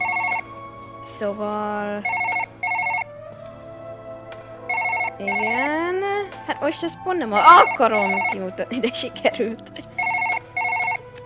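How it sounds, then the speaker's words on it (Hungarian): A telephone ringing in the video game Surgeon Simulator, repeated electronic two-tone ring bursts in a steady pattern over a low hum, with someone talking between and over the rings. "Csörög a telefon."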